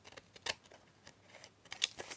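Scissors trimming around a paper envelope, a few faint, crisp snips spaced out over a couple of seconds, close and quiet.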